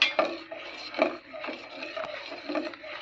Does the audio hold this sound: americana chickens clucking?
no